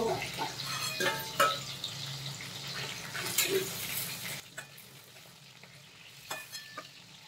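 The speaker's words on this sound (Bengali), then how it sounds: "ইলিশ মাছ ভাজা হয়ে গেছে, আমি এবার তুলে রাখবো।" Hilsa fish frying in oil in a pan for a mustard hilsa dish, a steady close sizzle with utensil scrapes and clinks of lifting the pieces out, quieting partway through as the frying eases.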